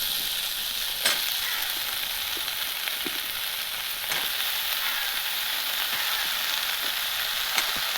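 Drumstick (moonga) flowers frying in a pan, a steady bright sizzle throughout with occasional sharper crackles and pops, fairly close and uninterrupted by talk.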